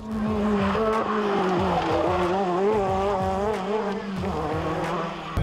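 A Renault R5 Turbo races hard, its engine note rising and falling through continuous loud revving with tire squeal mixed in, close and sustained.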